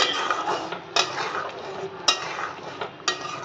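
Fenugreek leaves and cream are stirred in a pan for a paneer dish. A soft, continuous scraping and sizzle is punctuated by three sharp spoon knocks against the pan, roughly a second apart, with no talking.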